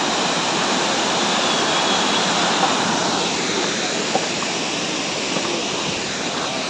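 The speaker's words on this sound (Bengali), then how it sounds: "আর তার পাশে চারিদিকে ঝর্ণার আওয়াজগুলো তোমরা শুনেই বুঝতে পারছো।" Waterfalls along the monsoon trek to Kedarnath pour in a steady, broad rushing roar that fills the whole scene without a break, close and loud, with no voices over it.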